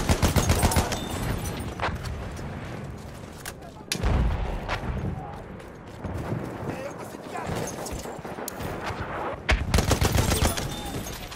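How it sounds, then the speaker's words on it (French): Machine gun fire in a combat video game, heard as dense rattling bursts at the start, near the middle and at the end, with game voices talking over the shooting throughout. "Une mitrailleuse aussi."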